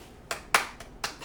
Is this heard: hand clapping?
yes